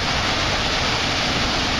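Water pours over the old weir of the Nussdorf hydropower plant, a dense, loud, continuous roar of falling water with no voices.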